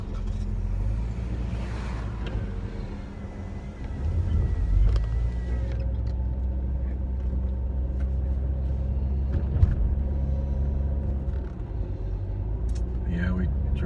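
A car climbs South Mountain in Phoenix, Arizona at night toward the lookout point, its steady low engine and road rumble running throughout with a brief louder surge partway through.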